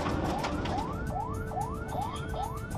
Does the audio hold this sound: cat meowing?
no